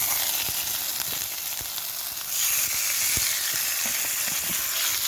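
Potatoes for mince and tatties fry over a campfire on a wild camping trip in Scotland. A steady, loud sizzle runs throughout, with small pops and crackles scattered through it and no talking.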